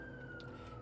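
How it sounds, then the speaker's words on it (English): An ambulance siren holds a steady wailing tone through traffic noise, loud and continuous over a short stretch with no talk. "Where's this ambulance going?"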